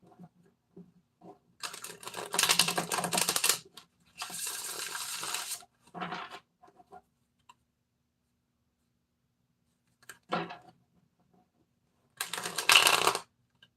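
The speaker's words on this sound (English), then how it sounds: "These cards are getting harder to shuffle." Tarot cards are shuffled by hand during a reading, several dry riffling bursts of a second or two each with pauses between them, close and fairly quiet, with no talking.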